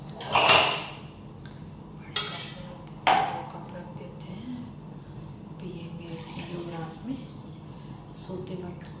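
Dishes, pots and utensils are washed at night, with a few sharp clanks and pings of metal utensils early on, then softer scattered clinks and faint water sounds, fairly close and quiet.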